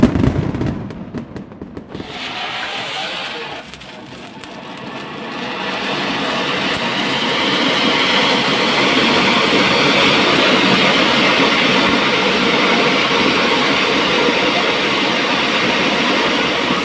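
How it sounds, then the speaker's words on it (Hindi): Continuous loud crackling and hissing of firecrackers going off at a Diwali celebration, a dense sustained roar after a brief quieter start, close by. "चलो शुरू करते हैं पटाखे जलाना"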